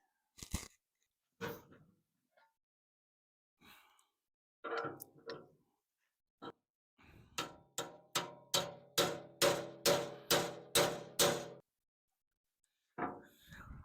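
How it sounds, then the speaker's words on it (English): Sharp metal-on-metal hammer strikes driving a pin home on an International tractor ballast box, a few scattered taps and then a quick run of about nine evenly spaced blows, close by in a quiet room. "just going to hammer it home"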